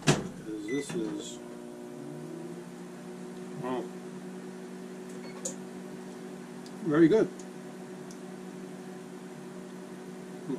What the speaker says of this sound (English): And I'm going to stick this in the microwave.